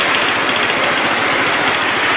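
A motorcycle engine runs with no battery fitted, a steady, loud, close mechanical drone with a dense hiss and no pauses.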